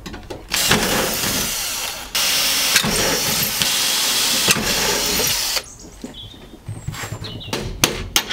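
Engine of a VW Golf GTI 16V Mk2 cranking and firing into a loud, close rough running, with brief revs and breaks, then dropping back to quieter idle with clanks of tools nearby.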